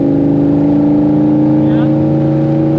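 Race car engine on a track at Putnam Park, a loud steady drone with rising harmonic pitch as it accelerates, heard from inside the car, no talking.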